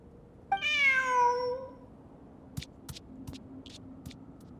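A single clear cat meow rises and falls from a kitty character in the video game Genshin Impact, followed by a few soft clicks and faint game noises, with no talking.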